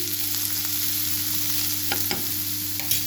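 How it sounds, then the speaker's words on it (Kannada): A pan of ingredients fries with a dense, even sizzle, a low steady hum underneath and a few quick spatula scrapes toward the end. No one speaks. "ಇದೆಲ್ಲ ಚೆನ್ನಾಗಿ ಫ್ರೈ ಆಗಬೇಕು ಫ್ರೆಂಡ್ಸ್"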